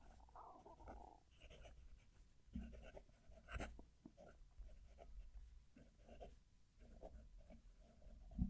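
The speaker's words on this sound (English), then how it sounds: "Going to move the mic to the page so you can hear the pen writing." Moonman/Majohn fountain pen nib scratching across paper, close to the mic, in soft intermittent strokes with a few louder taps and knocks; no talking.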